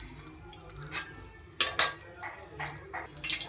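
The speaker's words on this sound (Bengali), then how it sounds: "এবার কড়াই ধুয়ে বসিয়ে তাতে দিয়ে দিচ্ছি তেল।" A wok rinsed and set on the stove in a home kitchen, a series of metallic clanks, scrapes and clinks, close and intermittent, irregularly spaced over a quiet background.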